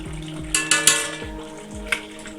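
Turmeric stirred into beef karahi in a pot, a few sharp metallic scrapes and clinks of a spoon against the pot over a soft background, close and brief, with no talk.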